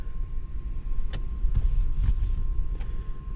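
A 2022 Audi SQ7's panoramic sunroof motor whirs open inside the cabin, a steady mechanical hum with a few soft clicks and knocks over low road-car rumble.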